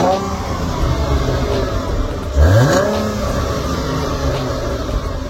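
Chrysler Crossfire with a warm 3.2-litre V6 revving close by: a steady idle rumble that climbs in a sharp blip near the middle, then settles back to a smooth idle.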